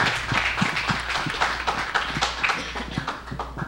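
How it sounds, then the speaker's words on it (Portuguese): Studio audience on a Brazilian TV show giving a round of applause, steady dense clapping at close range that carries on evenly throughout. "Salva de palmas pro pessoal da Lobex."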